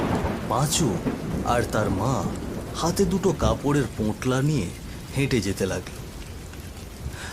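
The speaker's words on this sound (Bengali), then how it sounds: "আকাশে তখনও মেঘ ডাকছে," Thunder rumbles and light rain falls on a village road in the evening, heard as a steady backdrop beneath continuous close narration.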